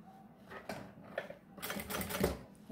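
A sewing machine stitches a seam on a small fabric waist bag, its needle chattering in short rapid runs that grow louder toward the end, close by with no talking.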